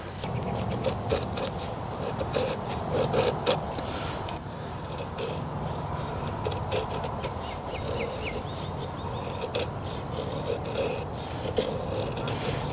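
A KaBar Heavy Warthog knife carves feather sticks from wood, giving steady rasping, scraping strokes with repeated short scuffs and light metallic clicks. The sound is close and moderate in level, with no talking.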